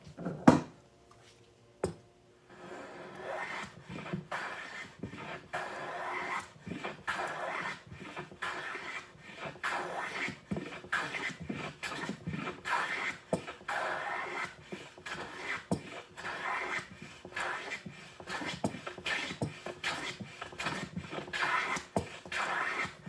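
A #4 hand plane shaving wood with the grain, a run of quick rasping strokes repeating in steady rhythm after a couple of isolated knocks, close and fairly quiet.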